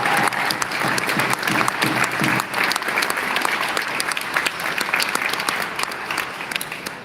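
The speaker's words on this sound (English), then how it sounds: "Give them a round of applause." Steady, dense audience applause fills a Veterans Day ceremony, loud and continuous with sharp individual claps throughout and no talk over it.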